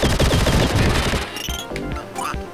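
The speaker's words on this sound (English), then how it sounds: "it's a rapid fire arcing weapon" A rapid fire arcing weapon shoots in the retro video game Vectorman, a dense, loud stream of fast gunfire that gives way to crashing effects and game sounds.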